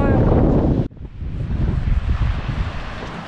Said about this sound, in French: Bon, beaucoup de vent hein.